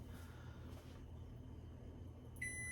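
A microwave oven in a home kitchen lets out a sharp electronic beep near the end, cutting in over a steady low room hum with no talking.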